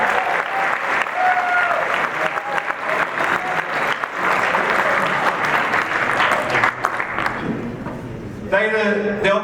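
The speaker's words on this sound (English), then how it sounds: "Give him a round of applause" A crowd applauds at a Lambda Chi Alpha centennial gala as a fraternity dignitary is introduced, steady sustained clapping filling the room for about eight seconds before a speaker's voice returns.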